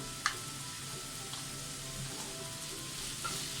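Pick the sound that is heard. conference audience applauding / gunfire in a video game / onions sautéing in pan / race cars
onions sautéing in pan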